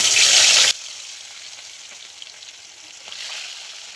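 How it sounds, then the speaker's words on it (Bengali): Pieces of katla fish frying in hot oil crackle loudly for a brief moment, then the sound drops abruptly to a faint, soft hiss with a few small pops. "মাছগুলো প্রথমে ভেজে নেব।"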